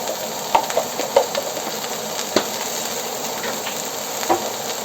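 Carrots sizzle and fry steadily in a hot pan for pork belly fried rice, a continuous hiss with a few small pops and stirring clatters close up, no talking.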